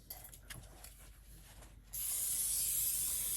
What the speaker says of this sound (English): Grease the pan for her so they don't stick.